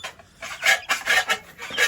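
A young chick gives soft, irregular clucking and scratchy peeping calls at close range, with no voices present.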